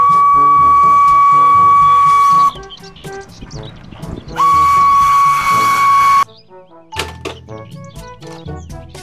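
A toy Thomas the Tank Engine train sounds a shrill, steady steam-whistle tone in two long blasts, separated and followed by clattering, clicking toy mechanism noises.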